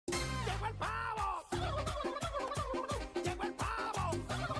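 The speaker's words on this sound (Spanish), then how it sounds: "Llegó el pavo." A turkey gobbles in a loud, close, rapid rattling series of repeated calls that keep on almost without pause.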